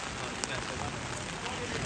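Heavy, torrential rain pours steadily over an outdoor cooking setup at a field event, a dense, even hiss of drops hitting surfaces with one brief louder tap.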